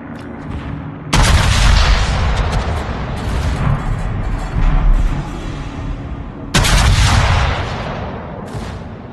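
Heavy naval gunfire in a warship battle game, with two loud booming salvos that set off long rumbling stretches of blasts and explosions, close and dense, and no talk over them.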